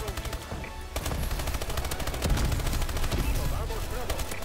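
Rapid submachine gun bursts in Call of Duty: Advanced Warfare multiplayer, loud and continuous automatic fire with dense overlapping shots throughout, game action clatter beneath.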